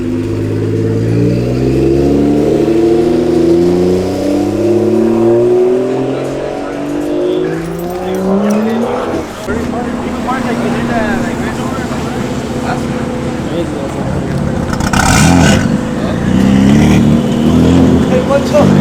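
A loud Toyota Supra revs hard and spins its tires, engine pitch climbing steadily before breaking into screeching wheelspin, close and dominant with talk faintly beneath.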